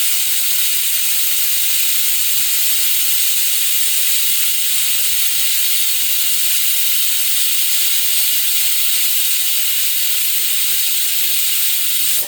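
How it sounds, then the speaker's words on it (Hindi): A pressure cooker in a home kitchen hisses a continuous, steady jet of steam, fairly close and unbroken, with no speech. "एक तरफ कुकर में सीटियां लग रही हैं"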